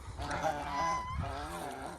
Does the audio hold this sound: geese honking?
yes